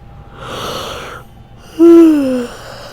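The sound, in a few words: yawn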